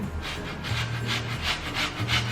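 A grater scrapes rhythmically during Thanksgiving dinner cooking, with about five quick rasping strokes at an even pace. The sound is close and moderately quiet, with faint breathing underneath.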